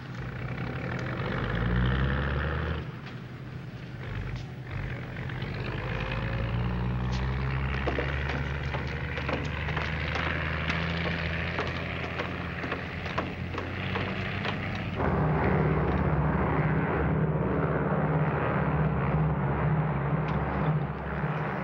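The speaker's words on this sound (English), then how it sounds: "United Airlines mainliner service flight 608 from Los Angeles, now arriving at gate 2" An airliner arriving at an airport gate, heard as a continuous broad engine roar and rumble, steady and fairly loud, with a low hum, from a 1951 film.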